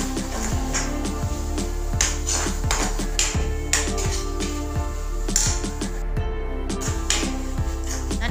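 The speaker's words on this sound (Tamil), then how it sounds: "இஞ்சி பூண்டு பேஸ்ட் அரைத்த விழுது எல்லாவற்றையும் நன்றாக கலந்து வதக்கி கொள்ள வேண்டும்" Spices, garam masala and ginger-garlic paste stirred and sautéed in a metal pan for okra gravy, with steady rhythmic scraping and clinking of a spoon against the pan, close and fairly loud throughout.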